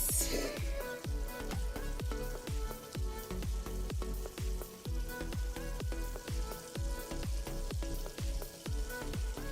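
Fish fillets frying in a pot on reduced heat, giving a steady, close sizzle and crackle with rapid regular spattering pops throughout.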